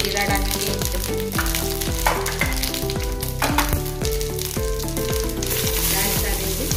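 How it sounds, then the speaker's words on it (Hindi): Mustard seeds and cumin sizzling in hot oil in a kadhai, a dense, steady crackle and spatter throughout, with repeated popping ticks from the seeds, close and loud with no voices. "तेल गरम हो गया अपना, बीच में हम राई डालेंगे 1 चम्मच, जीरा डालेंगे 1 चम्मच"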